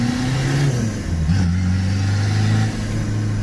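A Citroën C15 Turbo Dangel 4x4 engine accelerates from inside the cabin, a loud steady drone that climbs through a gear change, then eases off near the end.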